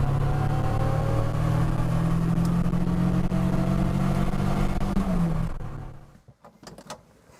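A 1973 MG Midget Mk3 with a 1275 engine drives along a country road, its engine droning steadily with a low hum, before the sound drops away and leaves a few faint knocks near the end.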